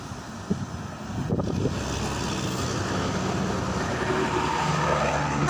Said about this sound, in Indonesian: Kali ini ada bus Garuda Mas teman-teman.